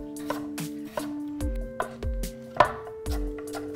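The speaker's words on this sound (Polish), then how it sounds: "Kroimy ją w grubą kostkę." A knife chops through peeled, seeded pumpkin into thick cubes on a board, about seven sharp close knocks at a loose, uneven pace, with a low hum behind them.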